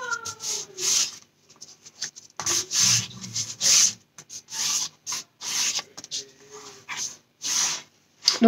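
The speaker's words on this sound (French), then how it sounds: "C'est vrai que je frotte entre chaque page." Paper pages of a handmade envelope album being rubbed down after gluing, giving repeated short dry rasping strokes, close and fairly loud, with brief pauses between passes and no talk.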